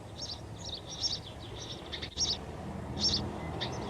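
House sparrows chirping at a nest on the Mall in London, a cluster of high, quick chirps and twitters repeated in bursts over a steady low rumble of distant traffic.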